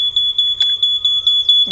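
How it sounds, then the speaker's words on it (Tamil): A bike GPS tracker app sounding its theft alert: a rapid, regular series of high electronic beeps, about eight pulses in under two seconds, loud and alone. "பீப் சவுண்டு வந்து தெப்ட் அலர்ட் அப்படின்னு இந்த மாதிரி பாப்அப் ஸ்க்ரீனில் ஓப்பன் ஆயிரும்."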